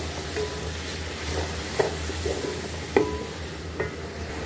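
Tomatoes, green chillies and spring onion are stirred in a pan over a soft, steady sizzle, with a few sharp spoon clinks against the pan and the scraping heard up close but quietly.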